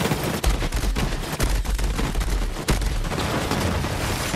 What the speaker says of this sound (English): I'm gonna shoot this thing again.